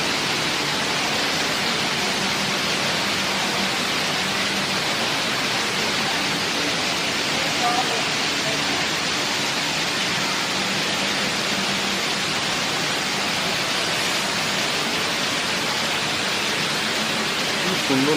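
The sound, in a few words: indoor water fountain splashing in Dubai Mall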